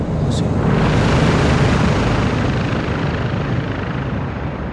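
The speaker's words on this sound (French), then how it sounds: "Un hélicoptère en approche." A helicopter roars in a Call of Duty Modern Warfare II battle scene, a dense, loud, continuous rotor and engine rumble that stays close for the whole stretch without letting up.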